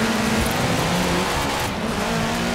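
A race car launches hard off the start line in Forza Horizon 4, a steady loud roar of engine and tire noise with no talk over it.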